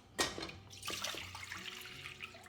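Tap water, three to four cups, splashes into a pot on a stovetop for a salt brine, a brief gush at the start followed by a softer, steady trickling pour, fairly quiet and close.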